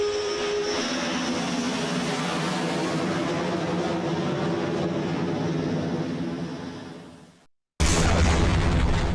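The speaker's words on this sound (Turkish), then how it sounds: "Butona basınca bir hava saldırısı başlatıyorsunuz." Air strike in the Crossfire map of Half-Life: a sustained, loud roaring rumble of blasts and aircraft noise that fades out into a brief silence, then a sudden loud boom bursts in.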